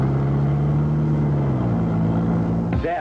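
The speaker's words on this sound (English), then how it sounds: "That was the sound of a well-maintained transmission." A car with a well-maintained transmission rolls steadily in a commercial, a low engine drone holding pitch and then shifting smoothly downward near the end, loud and close with no talking over it.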